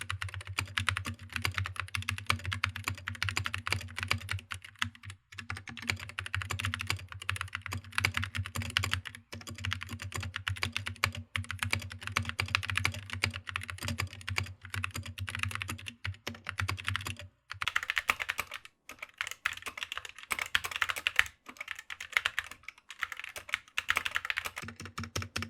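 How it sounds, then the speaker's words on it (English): Typing on a GK61 keyboard fitted with optical Gateron red switches and thick PBT DSA keycaps, a fast, continuous patter of close keystrokes with brief pauses and a low hum beneath for much of it. "this is how they sound on the GK61 with optical Gateron reds"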